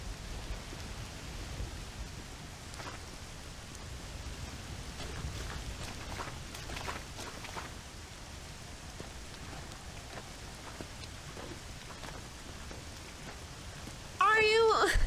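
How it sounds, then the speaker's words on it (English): Steady rain falls in the Red Dead Redemption video game, a soft, even hiss of drops that runs throughout, with a brief brighter sound breaking in at the very end. "Always rains when you don't want it to."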